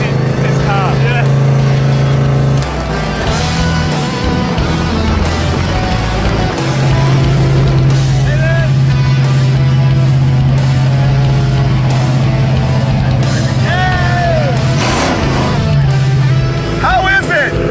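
A loud car cruises on a highway, a sustained droning engine tone holding steady over road roar, with people talking over it inside the cabin.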